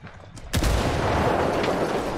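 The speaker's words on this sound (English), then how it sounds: "we just traded gunshots with a bunch of thick-skinned Sicarios" Gunfire from the video game Ghost Recon Wildlands, a sudden loud shot followed by a dense continuous roar of rapid firing that fills the rest of the moment.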